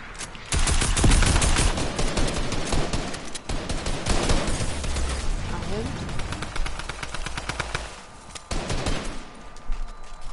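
Rapid automatic gunfire from a first-person shooter game fires in long dense bursts across nearly the whole stretch, loud and continuous, while players shout and talk over it.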